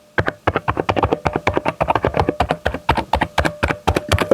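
Rapid, steady keystrokes clatter on a computer keyboard, close and crisp, with a continuous run of clicky taps and no voices.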